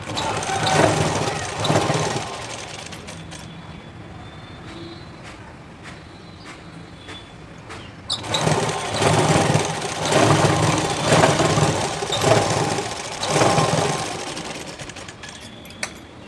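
Sewing machine stitching a blouse from the front side, running in loud rapid bursts that pause briefly near the middle before starting again.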